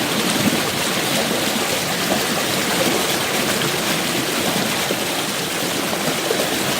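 Crystal-clear creek water flows steadily beside a mountain-fed stream bank, a constant broadband rush and babble holding even loudness from start to finish with no voices over it.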